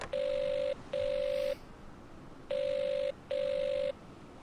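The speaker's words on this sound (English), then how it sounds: "Please use the phone to call the hotel garage if you wish to summon it." A phone in the Agatha Christie: Evil Under the Sun video game gives four long, even electronic tones in two pairs, clean and loud with short gaps between, and no talk over them.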